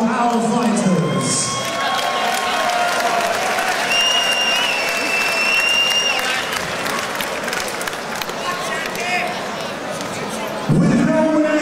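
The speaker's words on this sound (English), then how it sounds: "please give a round of applause for our fighters." Crowd applause and cheering for the fighters after an amateur featherweight boxing bout, a loud sustained ovation with shouts and whistles filling the venue, some voices rising above it.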